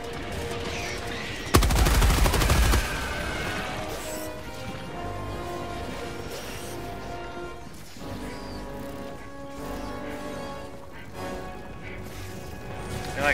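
A short, dense burst of rapid automatic gunfire cracks out in a bug-shooting video game, loud and close for about a second, then gives way to a steady droning game soundscape.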